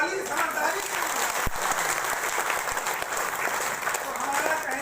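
Audience applause fills a hall during a spiritual discourse, steady dense clapping throughout at moderate loudness, with no talk over it.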